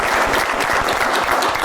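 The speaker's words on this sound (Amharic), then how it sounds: "አቶ ንጉሱን አንዴ ሞቅ ያለ ጭብጨባ በኔ ስም" A game-show audience breaks into dense, loud applause, a short burst of many hands clapping together close by.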